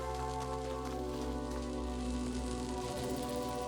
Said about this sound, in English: Good news, it's raining.